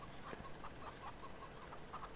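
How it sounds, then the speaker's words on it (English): Chickens in the farming game Farming Simulator 17 cluck in quick, agitated repeated calls, faint and steady against a noisy background, with no speech. "The chickens are just freaking out."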